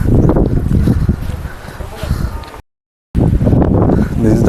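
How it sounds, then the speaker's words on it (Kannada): Strong wind at a hilltop viewpoint on Horsley Hills buffets the microphone with loud, gusty rumbling, under and between people talking, with a brief dropout partway through. "ಗಾಳಿ ಸಿಕ್ಕಾಪಟ್ಟೆ ಹೊಡಿತಿದೆ."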